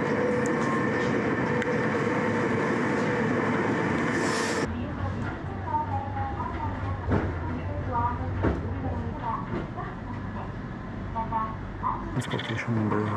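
A train near Koyasan, Japan, rumbles along the rails with a steady hum and occasional clacks and squeaks, heard from inside a carriage.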